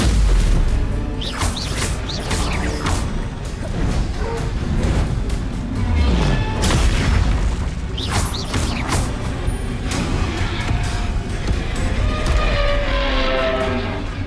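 Bombarda spell explosions in the Hogwarts Legacy video game, heard as a loud, dense run of booms, whooshes and crashing mechanical rumbles that barely let up.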